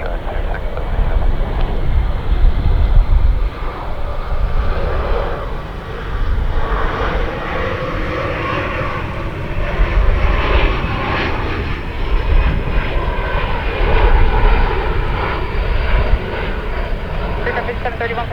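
A jet airliner roars loudly through a takeoff roll on JFK's runway 4 left, a steady broadband engine rumble that swells and holds throughout, with tower radio chatter faintly mixed in.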